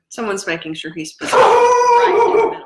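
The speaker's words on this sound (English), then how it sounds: "Yeah, that's the dog." A dog howls and barks in a drawn-out, loud wail that follows a man's speech, the howl sustained with a few breaks, close to the microphone.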